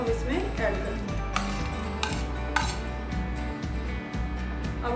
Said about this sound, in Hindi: अब हम इसको अच्छे से मिक्स कर लेते हैं।